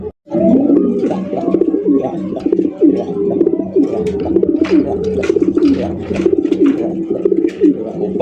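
Pigeons coo continuously in a loft, including a large yellow Indian Mumbai pigeon, with overlapping throaty rolling calls that are loud and close and are mixed with wing flutters and scattered bird chirps.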